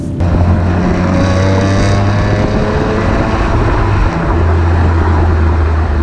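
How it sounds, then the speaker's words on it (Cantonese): A BMW M3 CSL's engine and exhaust holding a loud, steady, unbroken drone with a deep low hum, heard close and alone. "所以呢架車嗰啲死氣聲，尤其是5-6千轉嘅時候咧，其實反而仲似賽車。"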